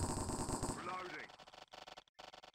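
Rapid automatic gunfire bursts in the Minecraft game Cops n' Criminals on the Hypixel server, loud and dense at first, then broken into choppy shorter volleys with a voice talking over the firing.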